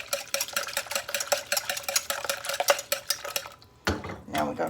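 A whisk rattles rapidly against a bowl, stirring German chocolate cake icing in quick, close, rhythmic strokes, followed by a brief pause and a few clunks.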